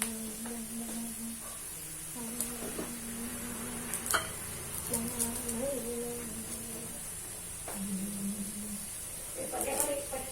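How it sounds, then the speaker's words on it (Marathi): Pea-stuffed parathas roast on a pan with a low, steady sizzle and occasional scraping taps. The sound stays faint and close, with a voice talking over it at times. "छान शेकून घ्यायचं आणि अशा तऱ्हेने पराठे तयार करायचे"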